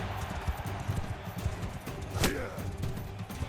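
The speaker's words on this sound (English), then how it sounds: "He just got knocked off his horse." Horse hooves clip-clopping in a medieval battle video game, a steady rapid patter of hoofbeats under low background noise, with a brief sharp crash partway through.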